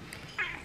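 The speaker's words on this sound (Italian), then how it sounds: "Gatto Denver non la smette di miagolare" A house cat gives a single short meow partway through, near and fairly clear over a quiet indoor background.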